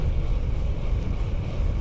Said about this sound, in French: Le vent est léger.